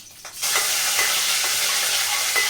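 Curry leaves hit hot oil for a Telugu-style mutton pulusu, bursting into a loud, steady crackling sizzle that starts abruptly and stays strong, with faint stirring scrapes and no voices.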